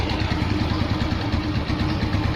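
A Yamaha NMax scooter engine idles steadily with a low, even rumble and light mechanical clatter, close and continuous throughout with no talk over it.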